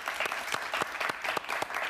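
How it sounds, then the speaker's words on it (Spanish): A television talk-show studio audience welcomes a Venezuelan historian guest with a short burst of applause, close and evenly rhythmic, with no speech over it. "Un aplauso para él, por favor"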